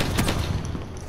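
A quick, loud burst of automatic gunfire in a Call of Duty Black Ops 4 free-for-all match, with rapid shots packed tightly together.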